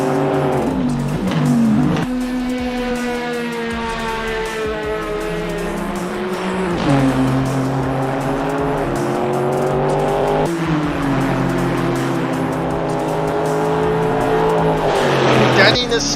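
BMW M8 race car lapping Kyalami in a racing video game, engine screaming through repeated gear changes with tire squeal under steady commentary.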